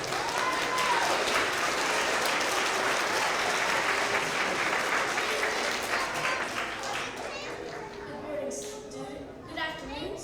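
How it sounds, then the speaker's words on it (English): An audience of students, parents and teachers at an elementary school K–2 award assembly applauds loudly and steadily for several seconds. The clapping gradually thins out, and voices and scattered claps are heard at the end. "Let's give her a big round of applause."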